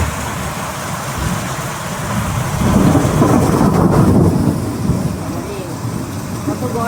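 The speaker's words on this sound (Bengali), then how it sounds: "যেমন বৃষ্টির আওয়াজটা হচ্ছে, তেমন আকাশের আওয়াজটা হচ্ছে" Heavy rain pours steadily while deep thunder rumbles and swells loudly in the middle stretch, a full thunderstorm close by with no voices.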